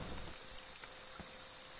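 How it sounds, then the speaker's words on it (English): Steady broadband rain hiss in a Friday the 13th video game, constant and fairly soft throughout with no voices over it. "Oh, it's raining."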